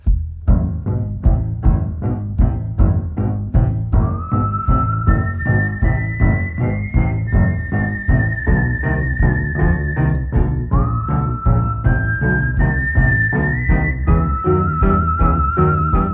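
A clear whistled melody of long sustained notes glides over a steady, rhythmic plucked accompaniment, loud and close, with no voices.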